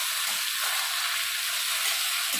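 Kochur loti (taro stolon) being stirred with a spatula in a frying pan, a steady, bright sizzle and hiss of frying with faint scraping, continuous and close, no voices.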